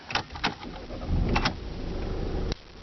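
A 2012 Volkswagen Passat Highline engine cranks and fires with a short burst of starter clicks and then a swelling rumble as it catches, heard close and fairly quiet, ending with a sharp click.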